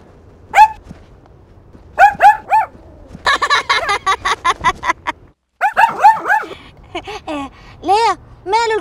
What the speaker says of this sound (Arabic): ماله الكلب حلو وبعيش حياة حلوة كمان يا أرنوب